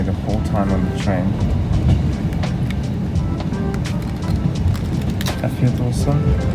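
Aboard a train travelling from Paris toward Rouen in Normandy, the carriage gives off a steady loud rumble and rattle throughout. Occasional clicks and bumps sit over the noise, and voices talk on top of it.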